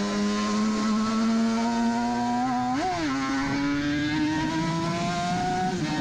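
Onboard, a Suzuki RG500 racing motorcycle screams at high revs on the Isle of Man TT course, its two-stroke whine holding steady with a brief dip and recovery midway, loud and close.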